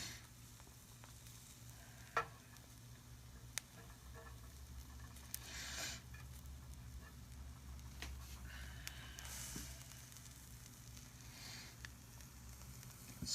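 A quiet, steady sizzle of a sunny-side-up egg frying in a pan, with faint bubbling and crackling and an occasional soft clink.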